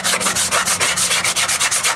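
Rhythmic scratchy rubbing of hand sanding rust off a metal brake drum, steady back-and-forth strokes about eight per second, close and loud with no talking.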